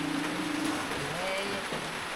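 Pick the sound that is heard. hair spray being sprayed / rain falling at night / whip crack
rain falling at night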